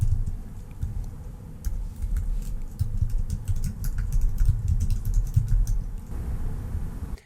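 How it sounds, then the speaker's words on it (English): Rapid typing on a computer keyboard clicks in quick, uneven bursts of keystrokes over a low steady hum, pausing briefly before a final flurry and fading at the end. "And I'm going to start typing."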